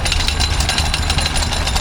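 A stationary engine running at a rural show in Horns Cross, Sussex, thudding in a fast, even rhythm with a heavy low knock, close and loud.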